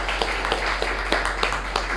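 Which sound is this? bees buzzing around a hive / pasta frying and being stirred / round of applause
round of applause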